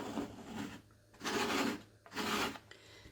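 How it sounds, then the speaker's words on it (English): A plastic scraper dragged across a Cricut cutting mat to lift sticky residue, two long, close rasping strokes after a quieter start, with brief pauses between them and no voices. "I'm just going to use my scraper and just start scraping this stuff"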